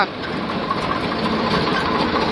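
A large tractor engine runs loud and steady nearby, a dense rumbling drone with no pauses.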